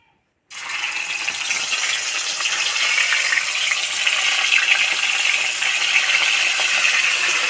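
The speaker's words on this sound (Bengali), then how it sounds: "তেল গরম হয়ে গেছে মাছগুলো দিয়ে দেবো" Fish dropped into hot mustard oil in a kadai erupts into a sudden loud, broad sizzle after a brief silence, then holds a steady intense frying hiss up close with no talk.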